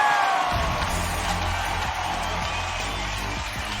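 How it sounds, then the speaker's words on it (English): A large crowd at an NCAA baseball tournament game between Oklahoma State and Texas Tech sends up a steady, loud roar of cheering and whooping that carries on without a break. "Just listen to this crowd."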